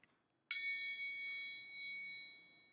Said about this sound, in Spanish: La campana suena en el relato